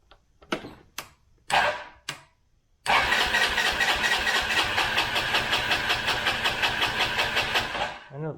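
A Honda Elite 150 scooter engine, carburetor recently worked on, cranks in several short bursts before catching and settling into a steady, loud, close idle with a regular pulsing rhythm, then cutting off.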